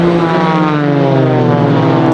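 Aerobatic display aircraft flying the blade break manoeuvre at the Farnborough International Air Show 2016, with a loud, steady propeller drone whose pitch slides gradually downward as the planes pass close overhead.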